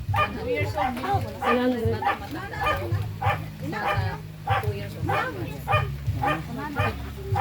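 A dog barks and yelps repeatedly in quick succession, close and loud, with a low rumble of background noise.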